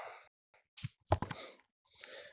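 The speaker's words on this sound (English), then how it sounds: "Typing Russian." Keys on a computer keyboard clicking in short scattered bursts while someone types Russian text, close and fairly quiet, with pauses between strokes and no talking.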